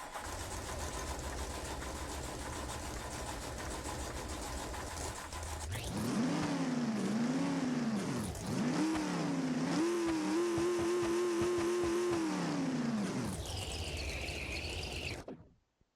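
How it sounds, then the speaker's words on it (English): A car engine in the BeamNG driving game cranks after an idle hum, then catches and revs in several rising and falling pulls before settling at a steady higher pitch and cutting off abruptly. "let's listen to that beautiful engine startup sound"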